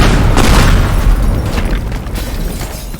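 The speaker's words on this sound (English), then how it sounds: "So I'm going to shoot that thing. It's going to explode all over to there." A loud, booming explosion from an object shot in the video game Teardown, a dense rumbling blast that stays heavy and sustained with crackling debris for the whole stretch.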